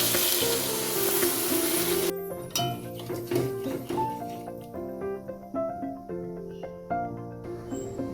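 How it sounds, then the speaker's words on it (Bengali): Water splashes into a pan of vegetables frying for a vegetarian drumstick chorchori, giving a loud hiss and sizzle for about two seconds before music takes over. "বাকিটা সিদ্ধ হওয়ার জন্য অল্প পরিমাণে জল দিয়ে দিচ্ছি।"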